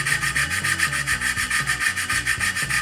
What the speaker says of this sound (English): Cut some strips of sandpaper 1/2 inch wide so I can get into these